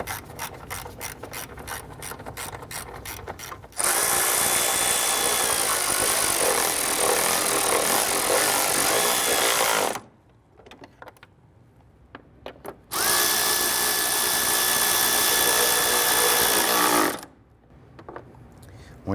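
A power drill or ratchet tightens valve cover hardware on a 1999-2004 Jeep Grand Cherokee with a 4.7L V8: quick ratcheting clicks, then two long, loud, steady whirring runs separated by a quieter pause.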